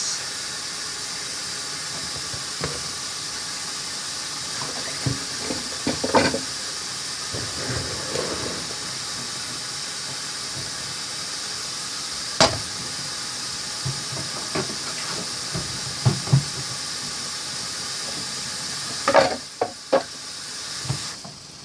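Kale and other vegetables sautéing in a pan for a chicken and kale salad give a steady, moderate steamy hiss, with scattered stirring clicks and utensil knocks throughout.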